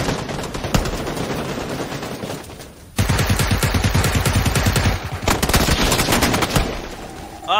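Rapid bursts of automatic gunfire crackle loudly and continuously, with a brief lull before a denser volley; game-like shooting with no speech.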